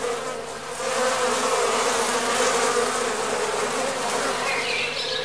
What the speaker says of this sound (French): Attirées, les mouches mangent les spores du champignon et les rejetteront ailleurs